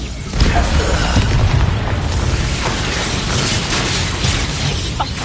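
An Expulso spell blast booms in a Harry Potter video game, a loud, deep explosion with a rumbling tail that stays heavy and sustained over a few seconds.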